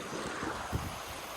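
River water flowing past a person soaking in it outdoors, a steady broadband wash with faint splashes, close and fairly quiet, alone without talk.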